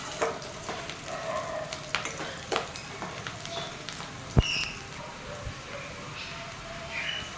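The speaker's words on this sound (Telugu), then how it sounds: "కట్ చేసి పెట్టుకున్న ఉల్లిపాయలు వేసి ఇలా కొద్దిగా కలర్ మారేంత వరకు ఫ్రై చేసుకుంటే సరిపోతుంది" Chopped onions and tempering seeds fry in hot oil in a pan, a soft continuous sizzle punctuated by scattered clicks and scrapes of stirring, close up and fairly quiet.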